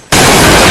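A huge explosion in an action film bursts in after a brief quiet moment, then holds as a loud, rumbling roar.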